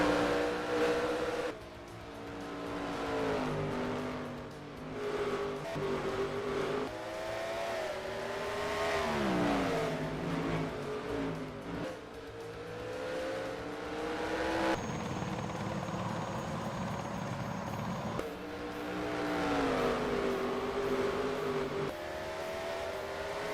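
Engines of race cars in a racing video game at Langley Raceway drone and rise in pitch through shifts and corners, with several cars passing close and loud in a sustained, varying roar.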